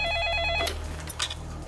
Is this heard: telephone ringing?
yes